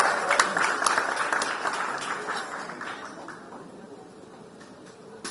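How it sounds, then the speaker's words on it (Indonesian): An audience applauding for Ahok at a pre-2024 election event, a dense burst of clapping that starts loud and gradually fades over a few seconds. "Boleh kita kasih tepuk tangan sekali lagi buat Pak Ahok."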